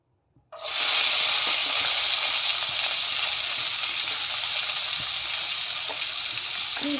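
Chopped vegetables dropped into hot ghee, a sudden loud burst of hissing sizzle after a moment of quiet, then a strong, steady frying hiss that continues close by.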